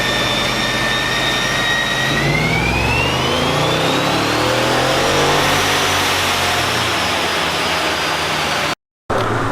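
Supercharged Hemi V8 on a chassis dyno, fitted with a Procharger and cam and running E85, revs hard in one continuous pull with rising whine and engine roar, loud and close, cutting off abruptly near the end.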